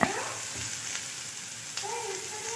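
Grated coconut fries in a pan while being browned for chicken gravy, giving a close, steady sizzle and crackle with a few soft stirring scrapes.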